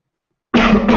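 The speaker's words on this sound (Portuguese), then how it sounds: "Vou tomar uma aguinha porque a tosse está me matando." A single person's cough bursts out loudly after half a second of silence, followed by a brief second throaty push.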